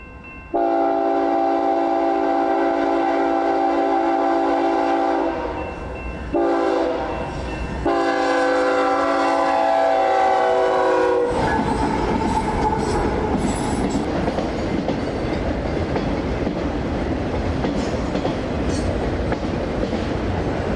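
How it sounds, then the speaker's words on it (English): A KCSM freight train locomotive passes close by, sounding a long steady horn blast broken by short gaps, then giving way to loud, continuous rumbling of railcars and wheels. "Following this train, a KCSM unit showed up."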